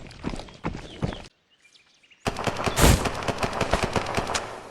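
Gunfire in the game Exfil Zone, rapid bursts of shots, then a brief near-silent gap, then a longer sustained volley with one heavier blast, fairly loud and close.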